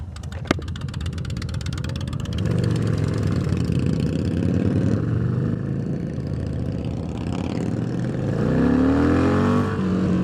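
A Yamaha Bolt motorcycle engine revs and rumbles steadily nearby, its throaty low growl rising in pitch toward the end with no talking.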